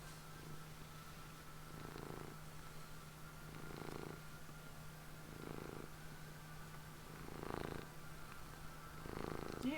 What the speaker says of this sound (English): Here, purr in the mic.